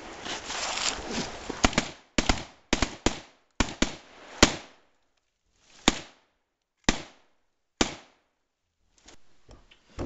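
Gunshots ring out in staged execution footage: a series of loud, sharp cracks, first in quick clustered bursts and then as single shots spaced a second or more apart, with near silence between them.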